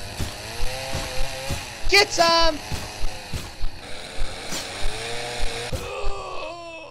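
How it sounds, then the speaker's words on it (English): A maniac's chainsaw in a horror video game, revving in a steady pulsing rhythm, loud and close, with a brief shout over it and a few metallic clatters partway through. "I hear the chainsaw wielding maniac right outside that door"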